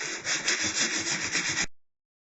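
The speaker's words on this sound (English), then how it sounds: "now I'm going to be going over some of the curves with some sandpaper" Wooden curves being sanded by hand with sandpaper, a close, steady run of rhythmic rubbing strokes that stops abruptly.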